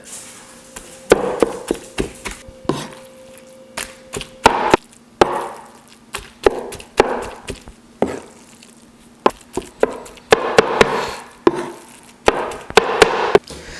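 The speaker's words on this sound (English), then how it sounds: "Now it's time to go ahead and start chopping away." Knife chopping cooked beef tongue and cheek for barbacoa on a board: a steady run of sharp, close, loud chops in quick irregular bursts, with brief pauses and no talking.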